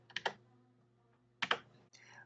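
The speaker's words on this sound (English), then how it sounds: "it's just toggling between 1 and 3 on your keyboard." Computer keys are pressed in two quick clusters of sharp clicks, close and crisp, with a quiet pause between them.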